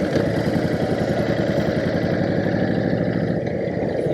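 Honda Fury chopper motorcycle cruising on open roads in Dubai, a steady, loud, continuous engine drone with a throbbing low rumble and no speech.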